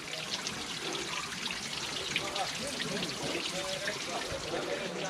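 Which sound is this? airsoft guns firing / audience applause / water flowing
water flowing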